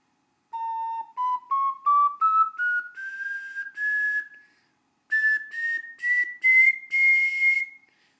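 A glazed brownstone ocarina plays a slow rising scale of clear, pure whistle-like notes, one breath-shaped tone after another, pausing briefly before climbing again, close and alone in quiet surroundings.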